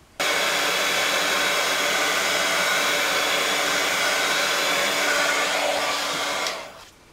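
A hair dryer blows steadily and loudly for about six seconds to dry a watercolor Christmas card, then cuts off and winds down near the end.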